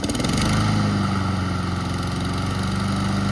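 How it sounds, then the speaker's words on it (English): A Honda lawn mower engine runs steadily and loud, a close, constant droning hum with no voices over it. "I'm going to show everybody how to start this nice Honda lawnmower"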